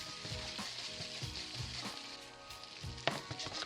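Gnocchi frying in browned butter in a pan, a steady close sizzle with crackles and a few sharp pops, no voices.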